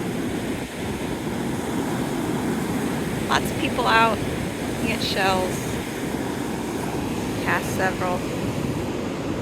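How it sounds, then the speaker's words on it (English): Waves breaking on Navarre Beach on a cloudy January day, a steady broad surf roar filling the background under someone talking as he walks along the shore. "Pretty decent waves today."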